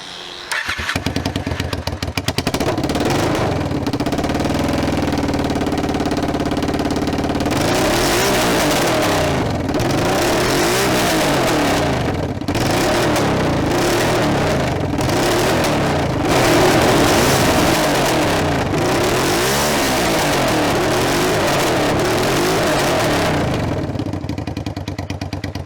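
A Honda NTV650 built as a scrambler starts up and runs loud through its exhaust. It rumbles close and steady for nearly half a minute with repeated revving swells, and nobody talks over it.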